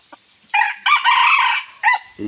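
A bantam rooster crows loudly and close by in several drawn-out bursts, with short gaps between them, and nothing else is going on.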